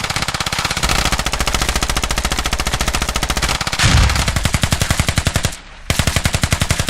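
Rapid automatic gunfire in a close-quarters combat video game, set in Al Basrah, rattling in a continuous loud stream of bursts with a brief pause near the end before firing resumes.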